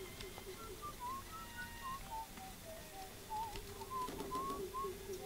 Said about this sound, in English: Who's whistling?